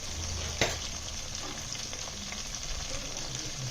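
Green chillies fry in a pan for mushroom biryani, a steady close sizzle with one brief sharp clatter near the start and faint stirring noises after.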